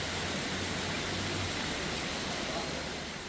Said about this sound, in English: This waterfall, it starts up there and then it falls down here.